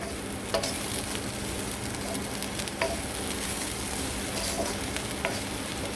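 Bitter gourd stirred in a frying pan: a continuous soft sizzle with occasional scraping clicks of the utensil against the pan, close and steady with no talking.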